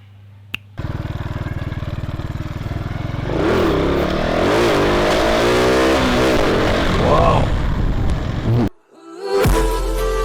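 Motorcycle ride recorded from a helmet-mounted camera: a steady engine drone with heavy wind rush rising and holding, pitch shifting as the bike changes speed, then a brief drop-out near the end before the roar resumes.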